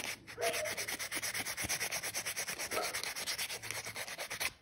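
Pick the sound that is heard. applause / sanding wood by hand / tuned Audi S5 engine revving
sanding wood by hand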